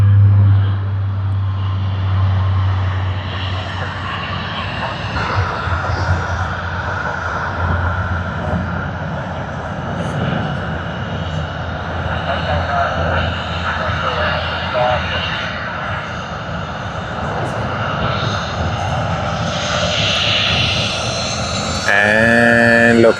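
An airliner in Toy Story 5 livery rumbles past at Sydney Airport, a steady engine roar throughout, with a person talking over it.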